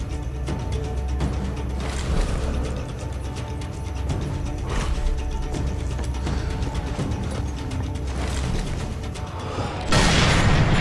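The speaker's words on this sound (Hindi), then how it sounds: "गोली चला रहा है क्या तू?" Rapid repeated gunshots and booms in Sniper Elite 3 at an airfield mission, dense overlapping fire with periodic stronger blasts, followed by a burst of noise at the end.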